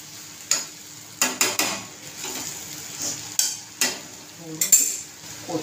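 Brinjal and potato sabzi being sautéed in oil, with a soft sizzle under sharp, intermittent clinks and scrapes of a spoon against the pan, close and alone.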